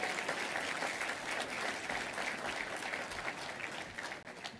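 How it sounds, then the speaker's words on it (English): Steady, sustained applause from a breakfast audience at an Army sergeant major forum and awards event, a dense even wash of clapping lasting throughout with no voices on top. "Let's give General Brown a big round of applause."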